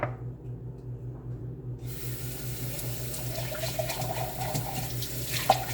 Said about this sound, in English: I'm just gonna pour it into my cup right here